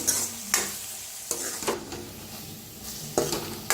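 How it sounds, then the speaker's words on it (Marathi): Turmeric, coriander powder, red chilli powder and green chilli stirred and roasted in oil in a pan, with a steady sizzle broken by a few sharp scrapes of a spoon against metal; no talking. "आता मिक्स करून छान असं भाजून घेऊया"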